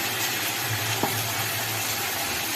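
Mutton sizzles steadily as it is fried in a pan with ginger, garlic and chili paste, a constant close hiss with one brief soft clink partway through.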